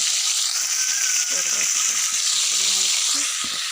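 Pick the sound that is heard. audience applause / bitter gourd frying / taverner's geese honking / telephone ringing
bitter gourd frying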